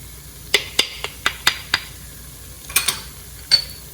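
Spices (paprika, garam masala, turmeric, coriander powder) stirring in an Instant Pot for nihari: a string of sharp scraping and clinking strokes against the pot, spaced irregularly with quieter gaps between, no talk.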